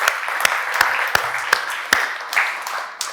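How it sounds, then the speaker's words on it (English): Audience members at a startup entrepreneurs summit clap loosely in a sparse, uneven rhythm, with individual sharp claps standing out over a soft wash of applause and faint voices. "Please clap for yourselves."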